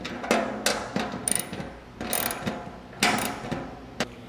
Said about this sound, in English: So hold that tight on the bottom and then just tighten down that top bolt.